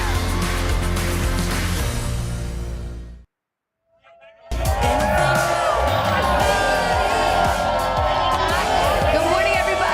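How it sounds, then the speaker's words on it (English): An outdoor crowd at the TODAY show cheers and whoops loudly, breaks off into a second or so of silence, then swells back into a full, dense roar with shouts and babble over it. "We got a great crowd out here."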